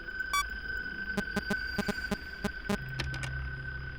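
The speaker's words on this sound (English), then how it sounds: "I'm hoping that beeping doesn't actually lure him in" A series of short electronic beeps from the game Five Nights at Freddy's 3, in an uneven rhythm over a steady hum, ending with a lower tone and a quick flurry of clicks.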